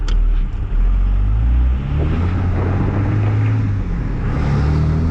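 A third-generation Cummins diesel pickup breathes through a 5-inch exhaust with a muffler, giving a steady, loud low rumble that holds at a constant drone close by throughout, with no talking.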